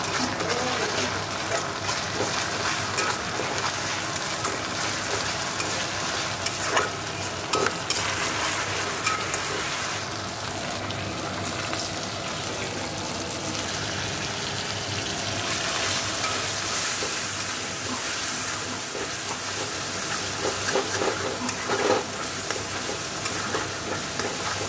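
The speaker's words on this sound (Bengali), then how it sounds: "আদা রসুন দিয়ে দিয়েছি" Ginger and garlic fry in a hot pan with a steady, loud sizzle and crackle that runs throughout, along with the occasional scrape of stirring and no talking.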